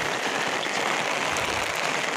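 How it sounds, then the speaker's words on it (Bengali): Heavy rain pours steadily onto a bridge over a river, a dense continuous hiss of drops close by with no talking. "দেখতে তো পাচ্ছেন প্রচুর বৃষ্টি হচ্ছে"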